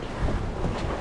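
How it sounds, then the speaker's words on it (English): Steady wind rushes at sea aboard a sailboat broad reaching on a port tack in roughly 20 to 22 knots, a dense continuous roar with buffeting gusts close to the microphone and no talking. "The wind has now picked up a bit"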